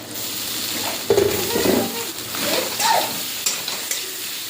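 Grated boiled cauliflower tipped into a hot pan of spiced oil and stirred, a close steady sizzle broken by scraping stirs and soft clanks of the spoon against the pan.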